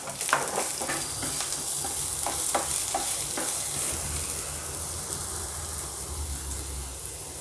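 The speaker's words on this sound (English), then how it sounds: "Now we'll add the onion. This is our normal onion." Chopped ordinary onion stir-fried in a hot pan for a veg Schezwan snack, with a steady close sizzle and several sharp scraping strokes of a spatula in the first few seconds.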